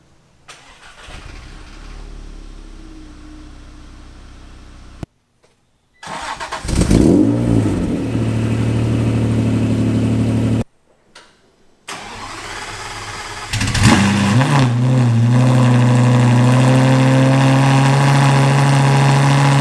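A straight-piped Lamborghini Gallardo V10 is started three times, each start a loud, close crank and bark settling into a rough idle, the later runs blipping up in revs before cutting off into silence.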